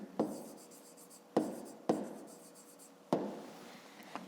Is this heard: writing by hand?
yes